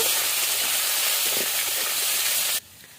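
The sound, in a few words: frying potatoes in a pan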